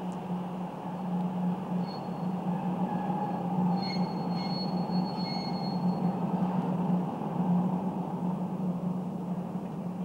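The Rheingold express train glides into a station hall, a steady loud rumble of rolling wheels with faint high squeals of the wheels, continuous and close throughout.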